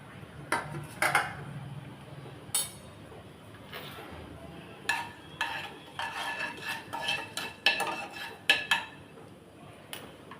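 Cloves, cinnamon, cardamom and stone flower fry in a pan of oil for a chicken kurma, with faint crackling under repeated metal clinks and scrapes of a spoon stirring against the pan.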